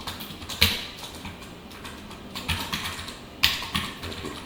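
Typing JavaScript code on a computer keyboard: a close, steady patter of key presses with a few louder taps standing out, no voices over it.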